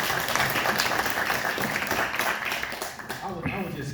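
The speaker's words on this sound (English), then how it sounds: "Let's give him a hand clap on that." Audience applause at a panel on Philadelphia wall writers, a dense patter of clapping from the crowd that fades slightly toward the end, with voices faintly mixed in.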